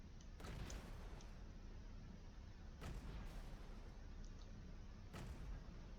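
Spaceship turret fire in the space game Avorion blasts a sturdy cargo container: three quiet, sharp shots spaced a couple of seconds apart, each followed by a soft rumble over a steady low background hum.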